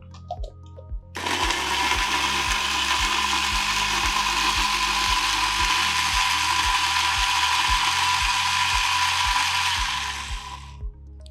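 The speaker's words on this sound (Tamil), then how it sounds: "ஸோ இதை வந்து நல்லா வந்து ஒரு ஃபைனாக வந்து அரைச்சிடலாம்." A mixer grinder grinding beetroot dip ingredients with honey and salt, starting up into a loud, steady whirring drone with a rapid rhythmic mechanical clatter beneath, then winding down near the end.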